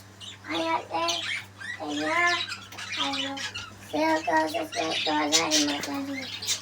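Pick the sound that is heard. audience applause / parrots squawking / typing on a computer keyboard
parrots squawking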